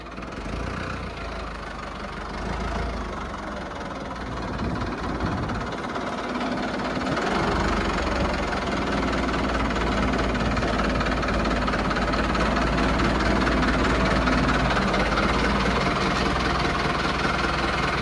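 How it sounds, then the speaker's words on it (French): A tractor engine runs at a steady, rumbling idle close by, its low chugging drone growing slightly louder and continuing without pause. "on va ranger le tracteur"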